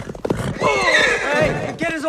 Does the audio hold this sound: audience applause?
no